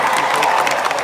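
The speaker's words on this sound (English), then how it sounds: "How about another huge round of applause?" A large crowd at a Disney parks panel applauding and cheering, a dense wash of clapping that stays loud and close for about a second.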